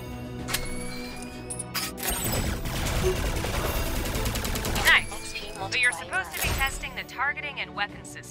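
Weapon fire in the PS4 video game Alienation: a dense, sustained burst of gunfire crackling for a few seconds, then sharper single blasts and electronic chirps, with a voice talking over the action.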